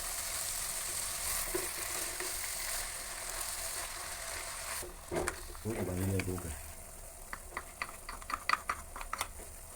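Soft sizzling of spinach sautéing in a pan with a few scraping stir sounds and clicks; a brief voice-like burst rises in the middle.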